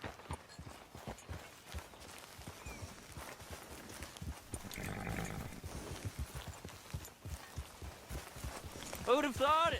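A horse gallops in Red Dead Redemption 2, with steady rhythmic hoofbeats clip-clopping along under a character's talk, a whinny-like call near the end.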